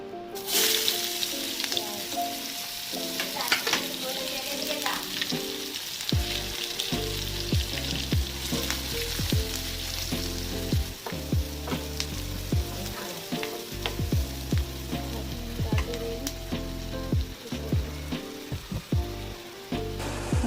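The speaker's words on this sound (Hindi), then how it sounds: "तो यहाँ पे तेल गर्म हो रहा है, तब तक मैं हींग" Asafoetida fries in hot oil in a pan, producing a dense, continuous crackling sizzle with scattered pops and stirring clicks, close and without speech.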